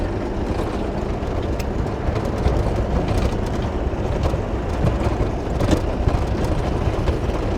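A 2009 John Deere 60D rubber-track mini excavator with cab idles steadily while its AC compressor clutch runs, a continuous low diesel drone with faint rattles and mechanical whirring, moderately close and without talk.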